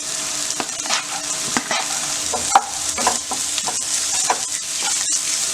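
Vegetables stir-fried in a pan for restaurant-style veg fried rice, a constant sizzle broken by repeated scraping and stirring strokes of a spatula at an uneven rhythm, close up with no talking.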